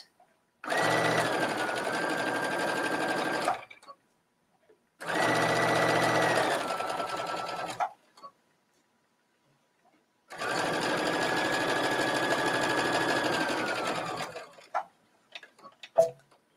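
A sewing machine stitches binding onto the armholes of a bathing suit coverup in three sustained runs of steady, rapid whirring separated by pauses, ending in a few faint clicks and handling noises.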